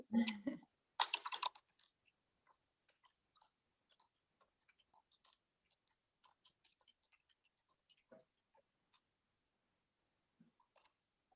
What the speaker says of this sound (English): Let me type it in again.